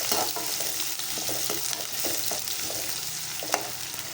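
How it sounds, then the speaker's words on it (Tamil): Curry leaves, onion and three green chillies sautéing in hot oil for a fish curry, a steady close sizzle with scraping stirs of the spatula against the pan at intervals. "கொஞ்சம் கருவேப்பிலை, கொஞ்சம் வெங்காயம், ஒரு 3 பச்சை மிளகாய் போட்டு அதை நல்லா சாட்டே பண்ணுங்க"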